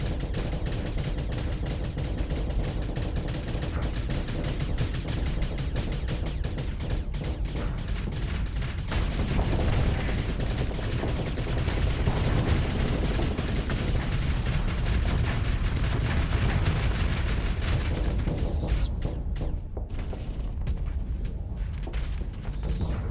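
Ship weapons in the Starsector space game fire continuously as a dense roar of booms and rapid gunfire, loud and unbroken, then thinning slightly near the end.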